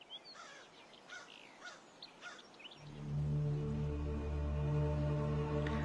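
A wild bird in the African bush gives a few scattered chirps and short calls with gaps between them. A loud, steady low droning takes over partway through and continues to the end.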